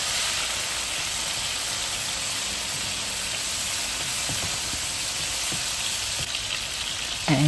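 Tomato, cilantro and green chili sizzle in a frying pan, a loud, even hiss of hot oil that holds steady throughout, with a faint stir near the end.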